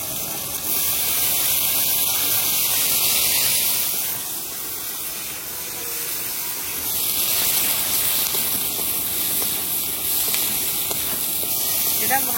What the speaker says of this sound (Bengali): আগে টমেটো গুলো আর পেঁয়াজটাকে ভেজে নিই